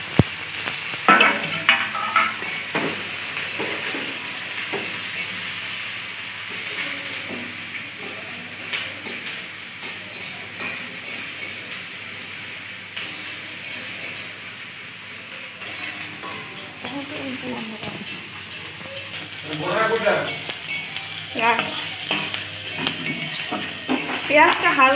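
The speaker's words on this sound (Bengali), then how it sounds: "এই পেঁয়াজটা বেশি ভাজবো না, অল্প একটু হালকা করে ভেজে নেব।" Chopped onion frying lightly in a pan for mutton ghugni gives a soft, steady sizzle throughout. Occasional stirring and clinks of a utensil against the pan come through, and a voice speaks at times.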